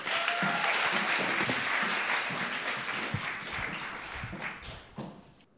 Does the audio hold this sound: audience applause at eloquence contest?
yes